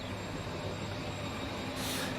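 A train rumbles past in the Transport Fever 2 video game, a steady broadband rolling roar of railcars with a faint high whine, rising slightly near the end and free of any talk.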